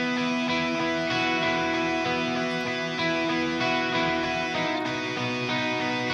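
Two distorted electric guitar tracks play together as a dense, loud, continuous wall of sustained chords with steady rhythmic pulses, with no voices.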